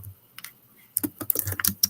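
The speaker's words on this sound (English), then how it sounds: "typing" Computer keyboard typing during a late-night crochet livestream: a few scattered keystrokes, then a quick, close run of clicks in the second half, with no talking.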